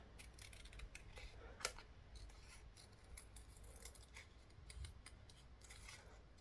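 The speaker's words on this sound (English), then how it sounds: "all of this is going to be sort of see-through on your skin. So it doesn't need to be perfect, just a quick rough cut around" Scissors make a quick rough cut around a paper tattoo design, giving faint, close snips and rustling against a quiet background, with no talking.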